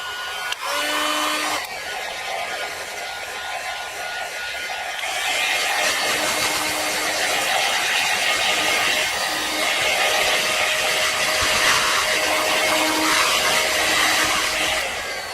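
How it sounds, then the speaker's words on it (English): A heat gun set very low warms wax on a guitar body, a steady airy blowing hiss that rises a little partway through and stays even to the end, with no one talking. "with this heat gun, just very, very low, just heat that wax up just a little bit"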